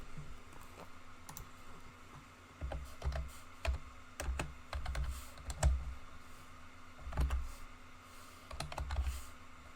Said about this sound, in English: Oh gosh, my typing is so loud.